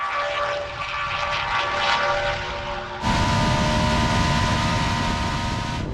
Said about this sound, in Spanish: El BRMV16 tenía un sonido tan agudo, tan violento y tan exagerado